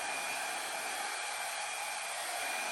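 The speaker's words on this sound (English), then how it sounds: "my larger hair dryer that I use for larger canvases is just a little too powerful for small canvases like this" A powerful hair dryer blows steadily across a 12 by 16 canvas to spread fluid paint, a loud continuous whooshing roar with no pauses or voices.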